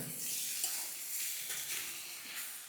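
Cauliflower curry with tomato frying in a pan: a continuous, fairly soft sizzling hiss with light stirring throughout.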